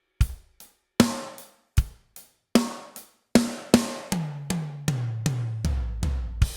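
A drum kit plays a measure of steady beat with kick and snare, then rolls into a descending tom fill of rapid hits.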